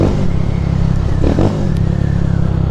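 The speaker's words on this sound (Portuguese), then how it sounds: "Ó, ela fica acelerada, Ela dá uma bombadinha, ela volta normal." A Honda CG 150 Sport motorcycle engine with a sticky throttle revs loudly and continuously up close, the engine note swelling briefly in the middle before settling back to a steady idle-like drone.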